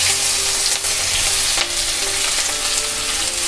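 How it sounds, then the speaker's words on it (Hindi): Masala sizzles in the oil left in a pan after frying eggs, cooked for a homemade chicken dum biryani. The frying is loud and close and crackles steadily the whole time, with a few faint clinks and no talking. "अंडा निकालने के बाद जो ऑयल था उसमें मैंने मसाला को भून लेंगे"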